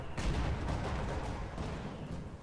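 A gammon bomb goes off in the Company of Heroes 2 battlefield, a loud broadband blast that sets in sharply and then rolls on as a dense, rumbling roar amid sustained combat noise for the rest of the moment.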